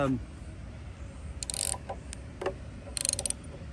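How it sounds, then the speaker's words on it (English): Carport post-and-beam bolts being tightened with a ratchet, giving a few short bursts of metallic clicking, the last a quick run of ratchet clicks, over quiet background. "so typically you'll tighten them up until you get a slight impression from the flat end of the bolt"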